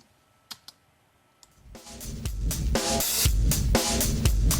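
Drums crunch through a heavy distortion pulverizer effect on a parallel crush bus, a few soft clicks at first, then a loud, gritty, pounding beat with crashing hits filling the rest.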